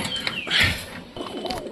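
Pigeons in a loft give soft cooing calls with a brief flutter, close by and moderately loud, with faint background noise and no clear talk.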